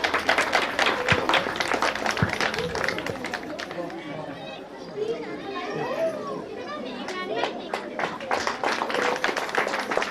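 An audience at a school annual prize distribution function claps in a loud, ragged burst of applause that thins into scattered claps, with children's voices and chatter around it.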